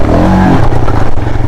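A Royal Enfield Himalayan motorcycle on an off-road track in second gear heading into jumps, a loud, close engine with a rising rev that drops into rough clattering.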